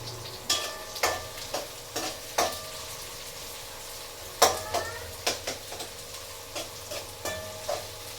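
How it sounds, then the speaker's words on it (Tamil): Onions fry in a pan for chicken gravy, a soft steady sizzle broken by a dozen or so sharp, rhythmic scrapes and taps of a spatula against the pan, close and clear with no talk. "கலர் மாறணும் கோல்டன் கலர்ல மாறணும் கொடு வெங்காயம் போட்டாச்சுங்க"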